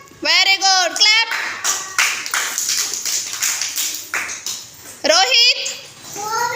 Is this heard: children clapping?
yes